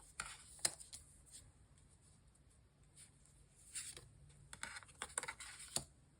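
Tarot cards drawn during a reading: soft, quiet flicks and papery taps scattered irregularly across a faint, hushed background, no voices.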